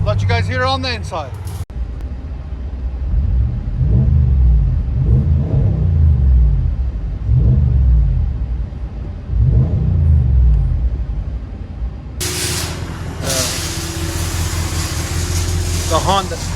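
Deep, steady rumble of a 2019 RAM 1500 with the 5.7L HEMI and Flowmaster Super 10 dual exhaust, heard from inside the cab, loud and droning, with periodic swells as the engine revs; people talk over it and the exhaust cuts off near the end.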